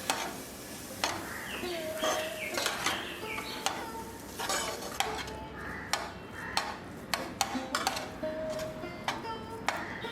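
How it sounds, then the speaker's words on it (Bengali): Paneer being mixed with condensed milk in a bowl, heard as a steady run of scattered clinks and scrapes of a utensil against the bowl, fairly faint and close, with no talking. "ক্যান্ডেন্স মিল্কটা দিয়ে পনিরের সাথে ভালো করে মিশিয়ে দেবো যাতে পনিরটা আর কন্ডেন্স মিল্কটা একসাথে মিশে যায়"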